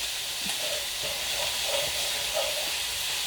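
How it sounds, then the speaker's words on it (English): Meat browning in a pan for a cottage pie hisses with a steady, even sizzle, broken by a few faint soft stirring sounds. "So, we're going to brown this up."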